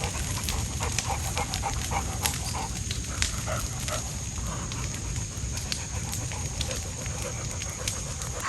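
Several dogs pant steadily and close by at a rural Alabama homestead, a quick rhythmic breathing under faint background noise with no talk.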